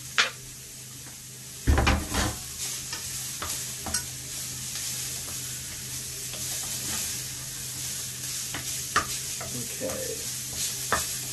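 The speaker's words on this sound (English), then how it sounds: "I'm going to turn my heat down to a medium heat, and I'm going to add my garlic" Onions and garlic sizzle in a pan over medium heat, a steady frying hiss broken by several stirring scrapes and clanks of utensil on pan, with one brief spoken word.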